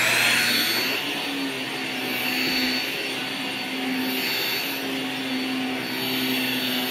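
A vacuum cleaner running close by, a loud, steady whining drone with a high motor pitch that barely shifts, heard on its own without talk.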